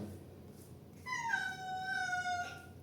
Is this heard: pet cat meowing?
yes